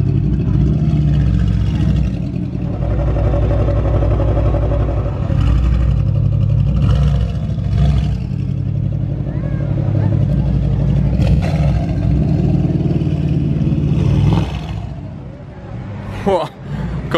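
A Mansory-tuned Mercedes 63 supercar growls and revs loudly on a Monaco street, its deep engine roar steady throughout with rising surges, while someone talks over it close by.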